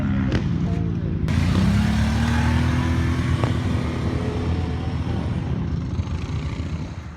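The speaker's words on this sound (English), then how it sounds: "Pump the engine." Can-Am Outlander L 570 ATV engine running with a steady close rumble and a rising rev near the start, then holding a continuous drone outdoors.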